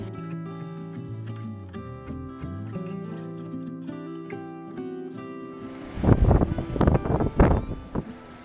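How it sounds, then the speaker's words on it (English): Strong gusts of North Sea wind on Shetland batter the microphone in loud, rough bursts over the last few seconds, following a stretch of steady music. "It was still exceptionally windy, as expected on an island and by the North Sea."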